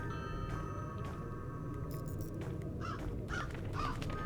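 Several crows caw in short harsh bursts in the video game Crow Country, layered over a steady droning game ambience with no talking.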